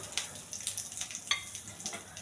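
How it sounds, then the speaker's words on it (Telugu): Tempering of cumin, mustard seeds, chana dal and dried chillies frying in oil for coconut putnala chutney, a soft steady sizzle with small irregular crackles and pops, close and fairly quiet. "కొంచెం దోరగా వేయించాలి."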